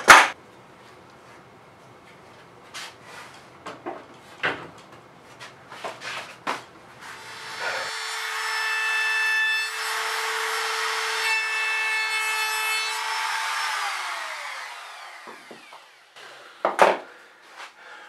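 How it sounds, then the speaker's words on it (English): Wooden craft shelves being sanded with 150 and 220 grit, a steady whirring power-sander drone that runs for several seconds and then winds down, with scattered knocks and scraping before and after. "I gave him a quick sanding with 150 and 220"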